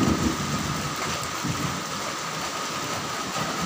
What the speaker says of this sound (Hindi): वो बादल कैसे खड़क रहे हैं।